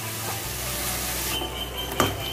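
A splash of water hitting spices frying in a pan for chicken curry, a steady loud sizzle that flares into a sharp hiss near the end, close up and alone.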